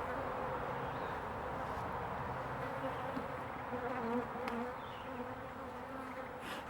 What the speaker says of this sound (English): The bees start to get a little flighty